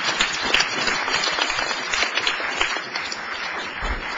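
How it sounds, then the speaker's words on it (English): Audience applause at a city council meeting, a dense, steady wash of many hands clapping that fills the room evenly from start to finish with no talk over it. "You can clap here."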